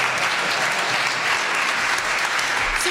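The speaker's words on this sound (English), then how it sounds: "Another round of applause for this wonderful cast." A theatre audience applauds the cast after a stage show about the Titanic, with loud, steady, dense clapping that continues without a break for the whole three seconds.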